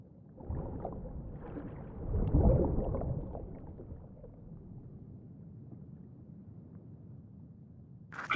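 Swimming through water in Cyberpunk 2077: soft, low watery swishing and sloshing strokes, a surge in the middle, fairly quiet and close, with no talking.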